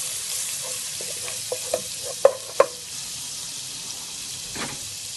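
Garlic cooking in a pan for a spaghetti dish, a soft steady sizzle with a few sharp clicks and taps of a utensil against the pan, no talking.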